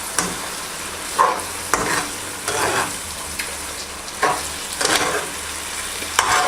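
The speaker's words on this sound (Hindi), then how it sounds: "अब ये जो मैंने एग लिए थे जिनको मैंने बॉयल करके इनको हल्का सा फ्राई किया था वो इसके अंदर ऐड करती हूँ।" Boiled eggs frying in biryani masala, stirred with a spoon at a steady pace, each stroke scraping the pan over a continuous close sizzle.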